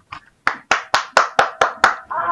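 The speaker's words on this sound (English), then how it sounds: "One guy clapping in the background." One person clapping hands nearby, six to seven sharp, evenly spaced claps in a quick rhythm, loud and alone.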